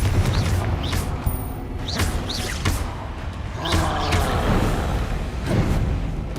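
Confringo fire spell blasts in the video game Hogwarts Legacy go off amid loud, continuous booming combat noise, with several whooshing bursts and rumbling impacts layered over a dense roar.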